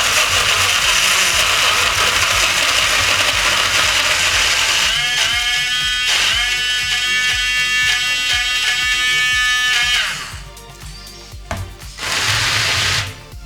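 A small battery-powered Ninja Blast portable blender whirs with a grinding, rattling mechanical buzz, then sputters and cuts out briefly as the battery runs low before revving again near the end.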